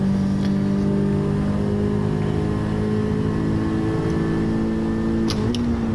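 Honda Civic Type R FK8 driven hard on a racing line, a loud sustained engine drone with rising harmonic tones as it accelerates, heard from inside the car without talk.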